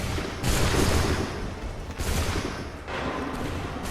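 British soldiers in Assassin's Creed 3 fire musket volleys in a Revolutionary War battle, several loud rolling bursts of gunfire about a second apart over constant battle noise.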